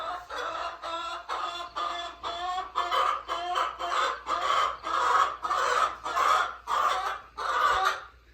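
Chickens cluck and squawk in a steady run of loud, close bursts, about a dozen in a row with short gaps between them and no talking.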